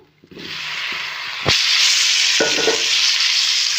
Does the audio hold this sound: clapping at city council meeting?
no